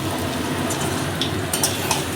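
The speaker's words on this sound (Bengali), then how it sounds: "এদিকে আলু ভাজা হচ্ছে" Potatoes fry in a pan with a dense, continuous sizzle, close and steady, with a few soft scraping stirs and clinks along the way and no voices.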